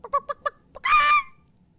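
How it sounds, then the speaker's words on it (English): A chicken squawks and screams outdoors: a short series of four clipped squawks, then a pause and one more, before a loud drawn-out scream rings out, close and alone with no talk. "suddenly you hear chickens screaming outside."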